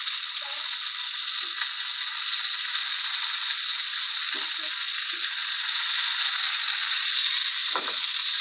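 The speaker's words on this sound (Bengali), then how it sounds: "কড়ার মধ্যে কচু আর আলুগুলো দিয়ে দিয়েছি, ভালো করে ভেজে নেব লাল লাল করে" Taro and potatoes frying in hot oil in a wok, a steady, bright sizzle running the whole time with a few soft knocks and stirring sounds.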